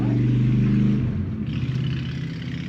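A motorcycle engine drones loudly nearby, then its tone drops and fades as it moves past and away.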